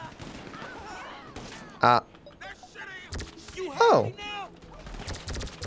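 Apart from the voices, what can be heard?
sniper rifle gunshots in the video game GTA 5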